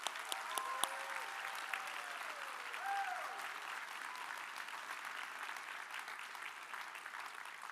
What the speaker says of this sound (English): one more really resounding round of applause for our top 25